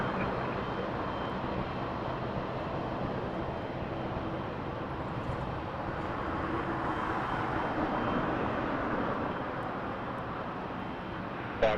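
Jet airliner taking off from a runway at Toronto Pearson Airport at night, a steady broadband roar heard from a distance that holds level throughout with no talk over it.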